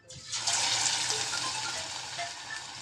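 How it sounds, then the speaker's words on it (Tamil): Steady, loud sizzling and crackling of fish frying in hot oil, starting abruptly and continuing throughout with no voices. "சரி வாங்க இப்போ என் மீனை பொரித்து பார்க்கலாம் எப்படி இருக்குன்னு."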